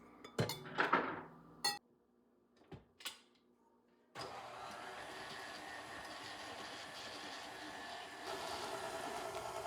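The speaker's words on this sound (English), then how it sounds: "First, we're going to beat the butter at medium speed for 30 seconds" A stand mixer with a whisk attachment beats butter at medium speed: a few light clinks and knocks, then a steady, continuous whirring drone that runs unbroken to the end.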